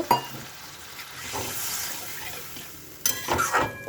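A spice paste frying in oil in a pan, with a soft continuous sizzle broken by a few sharper stirring clatters at the start and near the end, close by and without talk.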